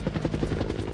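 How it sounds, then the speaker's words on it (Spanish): Apache Longbow attack helicopter in flight, a loud, continuous, rapid rotor thumping that holds steady for the whole stretch. "decidieron enviar contra la Medina 30 helicópteros Apache Longbow, equipados con misiles de precisión Hellfire"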